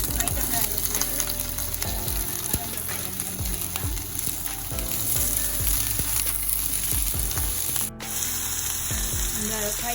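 Onions sautéing in a pan until golden, a dense continuous sizzle and crackle with scattered pops and occasional stirring scrapes, close and steady throughout without speech.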